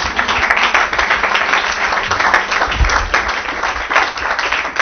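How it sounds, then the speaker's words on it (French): A church congregation applauds together during a Sunday service, a dense, steady wash of clapping sustained from start to finish, fairly loud and close, with a faint rise and fall in intensity and no talk over it. "Acclamons le Seigneur Jésus."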